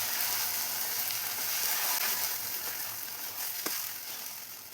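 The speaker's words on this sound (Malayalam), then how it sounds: "ഈ സമയം നമുക്ക് ഇതിലോട്ട് കറി ഒഴിച്ചു കൊടുക്കാം." Curry is poured into roasted coconut in a pan for a Kerala varutherissery and mixed in, giving a steady moderate sizzle that fades slightly toward the end, with one brief clink near the close.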